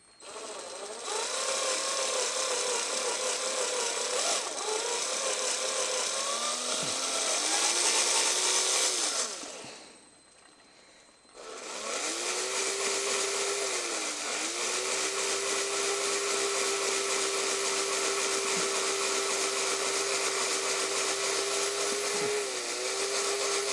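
A small high-speed rotary tool drilling into the die-cast metal body of a Hot Wheels 1970 Ford Escort RS1600, a steady close whine in two long runs split by a brief pause, pitch dipping slightly under load.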